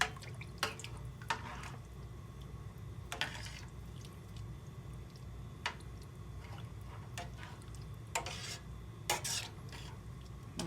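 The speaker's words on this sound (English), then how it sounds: "We're going to give that a stir." Italian sausage soup with Parmesan is stirred in a pot, giving soft faint scraping and occasional light clinks and drips over a low background hum, with no talk.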